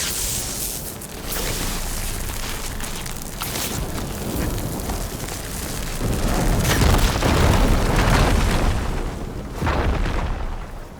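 In Horizon Forbidden West, a Firegleam crystal formation is blown apart with an Igniter, unleashing a loud, rumbling explosive boom that swells and rolls on for several seconds, with further surging blasts and debris settling afterward.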